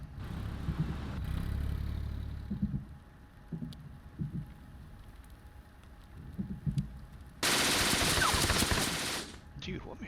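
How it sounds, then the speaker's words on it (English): A rapid-firing machine gun in a tabletop wargame played on PC sounds as a dense burst of gunfire that breaks out suddenly and loud, after quieter game sounds and scattered clicks. "what machine gun does he have over there? It's like a high rate of fire"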